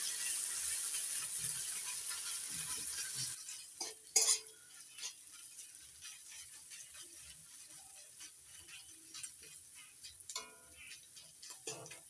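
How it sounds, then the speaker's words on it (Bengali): Ginger and garlic paste fries in a pan while being stirred for a taro (gathi kochu) curry. A loud sizzle for the first few seconds drops to a quieter hiss, with spoon scrapes and occasional metallic clinks. "আদা রসুনটা ততক্ষণ ভেজে নেব যতক্ষণ না কাঁচা গন্ধটা চলে যাচ্ছে।"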